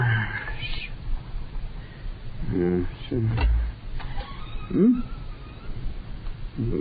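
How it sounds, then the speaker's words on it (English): A cat meows once or twice, close and fairly loud, amid indoor scuffling and other noises. "Let's get that cat seen to."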